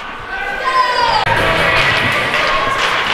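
Crowd noise fills an arena at a high school varsity hockey game, a steady loud murmur and cheering with a sharp thud partway through, under a commentator's voice.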